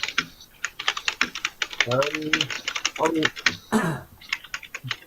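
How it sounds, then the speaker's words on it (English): Loud, rapid clicking on a computer keyboard picked up over an online live Q&A call, a steady patter of close keystrokes running under voices talking throughout. "I can hear someone typing very loudly."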